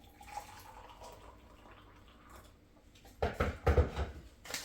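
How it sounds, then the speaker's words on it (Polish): Half a glass of water pours for dissolving raspberry jelly in a home kitchen, a short splashing burst after quieter room sounds. "Czyli dajemy pół szklanki wody."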